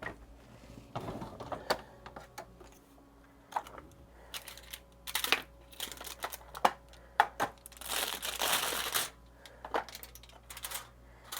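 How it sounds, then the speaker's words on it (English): Aluminum foil is torn and crumpled over a baking dish of Italian sausage stuffed banana peppers, producing sharp, irregular crinkling bursts and rustles close by, with brief quiet gaps between the louder crunches. "We're going to cover this with foil."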